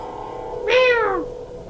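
A single clear cat meow, rising then falling in pitch, close and distinct against a quiet background.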